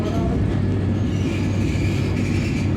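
A Vande Bharat express between Secunderabad and Tirupati, running out of Guntur junction toward Tenali, heard as a loud, steady rumble and rattle with continuous wheel noise.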